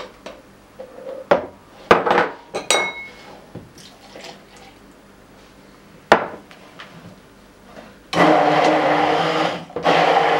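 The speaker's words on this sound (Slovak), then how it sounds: "Všetky ingrediencie okrem kokosu dáme do misky a vyšľaháme ponorným mixérom." Coconut-banana pudding ingredients in a bowl, minus the coconut, are handled with clinks and knocks before an immersion blender starts up and whirs loudly and steadily for the last couple of seconds.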